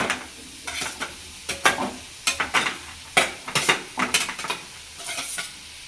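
Fried soybeans are stirred into soybean chili in a pan, a run of irregular scraping and clattering stirs over a low sizzle, close and without speech.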